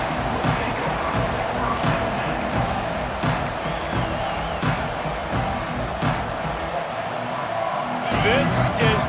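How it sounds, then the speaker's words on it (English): A stadium crowd at a Miami Hurricanes versus Alabama Crimson Tide football game makes a continuous roar and cheering, with a commentator talking over it throughout. "This crowd ready to make its presence known."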